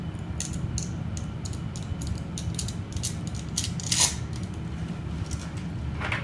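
A coil spring slid into the back of an airsoft gun's reassembled gearbox, giving a run of small metallic clicks and ratcheting creaks close up, with one sharper knock near the end over a low steady hum.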